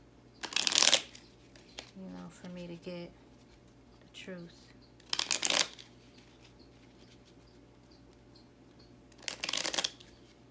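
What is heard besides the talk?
shuffling tarot cards by hand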